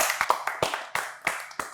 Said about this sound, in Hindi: क्या इस बात पे तालियां होनी चाहिए।